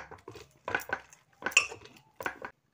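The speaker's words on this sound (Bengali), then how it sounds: "এবার আমি একটা ম্যাশারের সাহায্যে সব কিছুকে এইভাবে ম্যাশ করে নিচ্ছি।" A hand masher works through cooked potato, tomato and eggplant in a pan, making soft, close, squelching knocks in irregular bursts with short quiet gaps between them.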